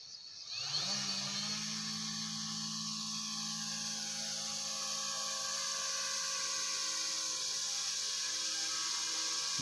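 Multirotor drone with a Pixhawk flight controller spinning up and taking off, motors rising to a steady, loud, high-pitched whine that holds continuously.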